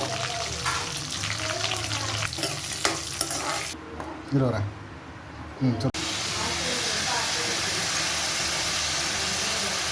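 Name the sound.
curry leaves and dried red chillies frying in oil, stirred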